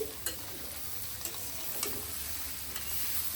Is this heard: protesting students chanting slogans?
no